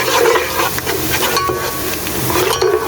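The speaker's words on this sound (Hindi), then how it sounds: "अब मैं इसी स्टेज के इसके अंदर ये ज़ीरा डाली है जो मैंने 1 टेबल स्पून के करीब लिया था। इसको हल्का सा सौते करेंगे।" Cumin seeds sauté in oil with browned onions for toor dal khichdi, a steady close sizzle with soft stirring scrapes running throughout, fairly loud and without talk.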